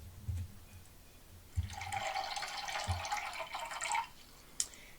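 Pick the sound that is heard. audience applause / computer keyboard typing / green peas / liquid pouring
liquid pouring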